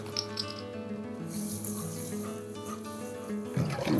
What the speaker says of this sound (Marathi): आता मी भात धुवून घेते.